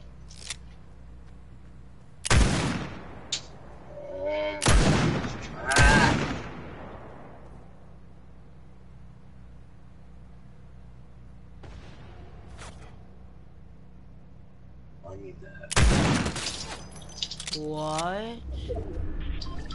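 Gunfire from the video game Fortnite comes in a few sharp, loud bursts separated by quieter stretches, with faint game sounds in between.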